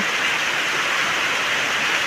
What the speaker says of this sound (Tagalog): Ayan, ang lakas po ng ulan.